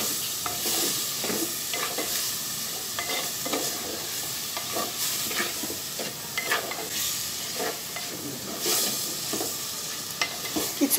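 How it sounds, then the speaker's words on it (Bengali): Potatoes and stems being stirred with spices in a hot pan: a bright, steady sizzle overlaid with repeated scraping stir strokes at a brisk, regular pace, close up and with no talking. "আলু ডাটা সব একসাথেই দিয়ে দিব। ভালো করে নেড়ে চেড়ে মশলাটার সাথে মিশিয়ে নিব।"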